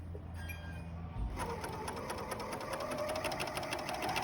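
A serger sewing machine stitching fabric; after a quiet second it starts up into a fast, even mechanical chatter that holds steady and close until the end, with no talk.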